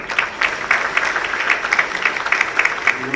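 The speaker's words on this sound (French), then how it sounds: "Est-ce qu'on peut l'encourager par des applaudissements?" An audience applauds at a company's 20th-anniversary celebration as the finance director of Kobil SA is introduced, a steady moderate patter of clapping with no voices over it.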